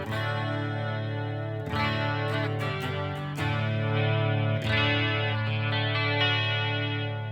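An electric guitar played through effects units rings out in sustained, chorus-laden chords with a slightly distorted edge, changing harmony every couple of seconds at moderate volume with no talking.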